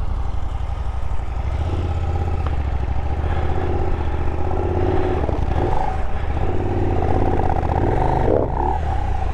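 A KTM 890 Adventure R Rally motorcycle pulls away, its engine rumbling and revving up close under continuous wind buffeting, with no talk.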